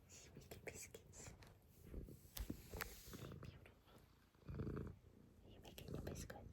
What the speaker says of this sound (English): Oh my goodness, that purr.